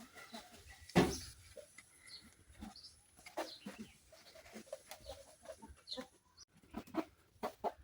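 Chickens clucking inside a small backyard poultry coop where hens are laying eggs: one loud close squawk near the start, then scattered soft clucks and short calls continuing at a moderate distance, no talking.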